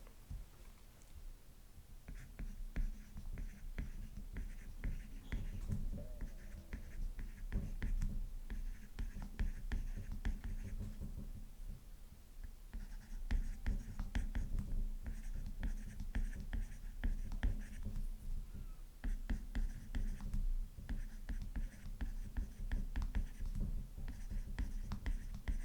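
A pen writes a sentence by hand on paper, with close, quiet scratchy strokes in irregular bursts and brief pauses between words, continuing for about twenty-five seconds with no talking.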